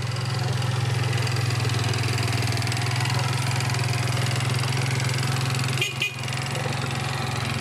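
A 180 cc scooter engine idles steadily and loudly up close, a constant low drone with a brief dip and clatter near the end; no talking.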